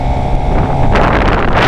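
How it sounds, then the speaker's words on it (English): A 2012 Suzuki GSX-R750 motorcycle's stock exhaust roars loudly close by, swelling sharply partway through, with wind buffeting the microphone. "It's so loud, and this is a stock exhaust."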